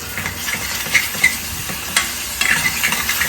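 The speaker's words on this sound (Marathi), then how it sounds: "थोडासा आपण मिक्स करू आणि पुन्हा एकदा झाकण देऊन ठेवू" Masala gravy with oil separating sizzles in a pan as it is stirred in a home kitchen. Gentle frying crackle continues under several scraping strokes and light clinks, close and moderately loud.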